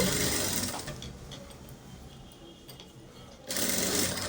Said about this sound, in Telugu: ఇప్పుడు మనం డబల్ స్టిచ్ చేసుకుందాము